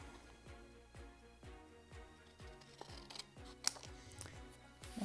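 Scissors snip through paper during a bullet journal setup, a quiet, close series of crisp cuts in a fairly steady rhythm, with a slightly sharper snip near the end.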